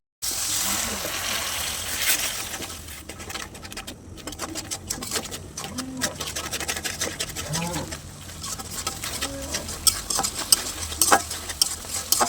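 Spices with chilli powder, coriander powder and a little water are stirred and sautéed in a pan, making repeated scraping strokes over a soft sizzle at close range.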